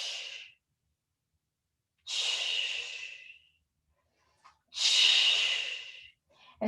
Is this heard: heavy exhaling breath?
yes